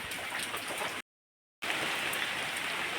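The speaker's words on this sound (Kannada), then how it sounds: "ಮಳೆ ಬರೋದು ಲೈಟಾಗಿ ಬರ್ತುಂಟು" Steady light rain patter, an even hiss of drops on surfaces, broken by a brief gap of silence midway.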